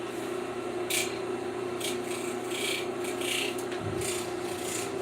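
A disc sander grinds a small metal part in a home shop, a steady mid-level whir with a constant motor hum and brief rasping bursts as the piece is pressed against the disc.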